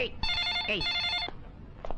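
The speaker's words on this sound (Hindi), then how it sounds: "आ गया भेजने वाले का फोन।" A telephone rings with a bright electronic trill in two bursts, loud and close, with a brief voice underneath and a sharp knock near the start.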